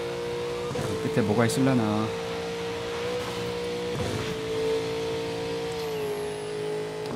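A game car in the open world of Burnout Paradise drives with a steady, mid-level engine drone that rises in a couple of short revving bursts, while someone talks over it.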